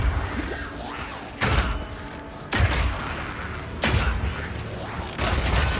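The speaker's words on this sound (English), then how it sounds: "This one works just like a classic sniper rifle." A mercenary's sniper rifle fires in Path of Exile 2, four heavy, sharp shots about a second apart, each followed by a short mechanical tail.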